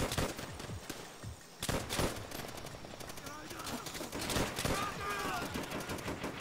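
Gunfire in Call of Duty: World at War bursts as dense, rapid shots and fusillades, with repeated sharp cracks, while someone talks over the shooting.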